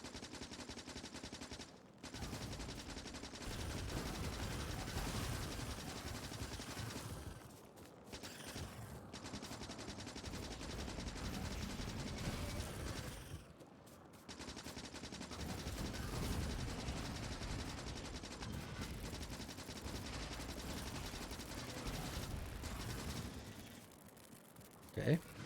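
Sustained video game gunfire, rapid machine-gun bursts that run nearly continuously with a few short pauses, mixed under a steady game soundscape.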